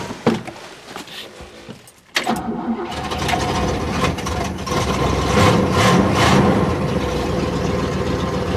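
A 1963 Oldsmobile engine cranks briefly, then catches and fires up, settling into a steady, fairly loud running idle close by with no talking.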